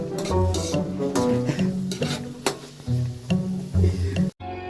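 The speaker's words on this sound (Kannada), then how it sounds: "ಇವಾಗ ಈರುಳ್ಳಿ ಹಾಕೋನೆ ನಾವು ಈರುಳ್ಳಿನ ಫ್ರೈ ಮಾಡ್ಕೊಳ್ಬೇಕೀಗ" Onions frying in a pan, with repeated clattering stirs and scrapes over a moderate sizzle in an uneven rhythm, close by, ending in an abrupt cut to silence.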